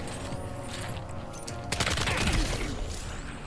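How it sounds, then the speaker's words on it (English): Gunfire in the video game Death Stranding 2: a low background hum breaks into a sudden loud burst of rapid automatic shots, then trails off into a lingering rumble. "So now they're going to chase us because they heard gunfire."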